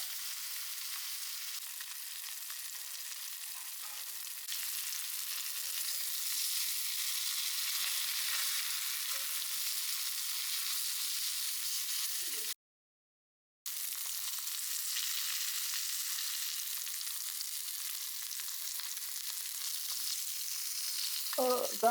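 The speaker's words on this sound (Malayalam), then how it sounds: "നമുക്ക് മീൻ വറക്കാം രണ്ട് കഷ്ണം ആദ്യമായിട്ട്" Two pieces of fish fry in hot oil in a home kitchen. A steady, soft sizzle and crackle runs throughout, with a brief gap midway and a few faint clinks near the end.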